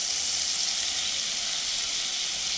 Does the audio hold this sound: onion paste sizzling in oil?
yes